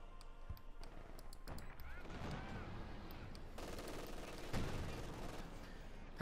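Gunfire from a Pak 40 anti-tank gun shooting at a Pershing tank in the Company of Heroes 2 video game, with repeated sharp shots over dense, continuous battle noise.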